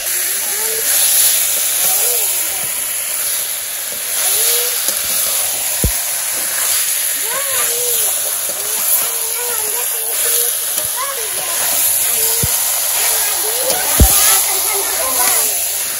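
Meat dropped into a hot pan with fried spices, for a village-style meat dish: a loud, steady sizzle and hiss lasting throughout, close by, with a person talking over it and a few sharp ticks.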